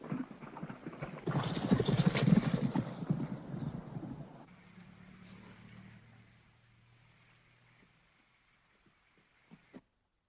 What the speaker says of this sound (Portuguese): Esse é o meu cavalo, Art.